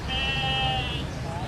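A sacrificial goat for Eid gives a drawn-out, wavering bleat, then a shorter second call, close and loud over a busy background with people talking nearby.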